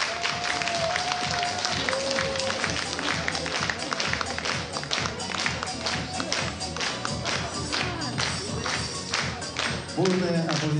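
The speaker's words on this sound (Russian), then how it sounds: "Бурные аплодисменты" Enthusiastic applause from the audience at the closing ceremony of a national patchwork quilt festival, rapid dense clapping close by and fairly loud, with a few brief tonal sounds and voices near the end.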